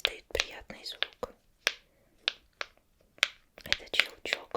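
Crisp, close clicks from a pop it fidget toy phone case come in an uneven series of sharp pops, with soft whispering between them.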